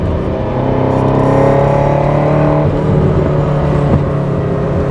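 A 1978 Ferrari 308 GTS engine fitted with individual throttle bodies and electronic fuel injection, a loud, steady, close-up drone with strong harmonic tones and a slight pitch shift midway, with no talk over it.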